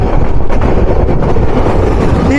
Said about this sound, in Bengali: যে train number 758 town Drutojan express. +70 গতি নিয়ে ছুটে চললো